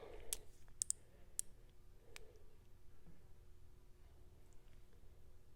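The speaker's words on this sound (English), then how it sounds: "They had these 2 Miller's Falls old-timey ratcheting screwdrivers." An old Miller's Falls ratcheting screwdriver gives sparse, sharp, isolated clicks, close and fairly quiet, over a faint background hum.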